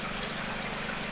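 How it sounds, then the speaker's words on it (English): A water pump at a village water scheme pushes water uphill to a mountain reservoir, giving a steady, close hum with a low tonal drone and a broad wash of rushing water, unbroken and with no voices. "from here the water is being pumped up to a reservoir placed on the mountain"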